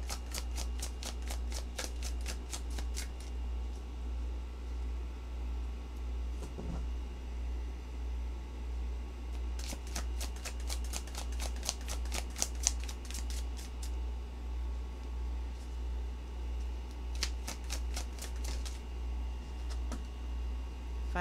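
Tarot cards shuffled by hand in several quick riffling bursts separated by pauses, close and crisp over a steady low hum, with no talking.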